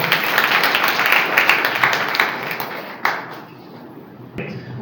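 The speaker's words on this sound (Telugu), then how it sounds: "గట్టిగా చప్పట్లు కొట్టి దేవుని మన మహిమగా" An audience at a prayer house lecture in Yernagudem, Andhra Pradesh, claps loudly in a dense burst of applause that thins into a few scattered claps and fades after about three seconds.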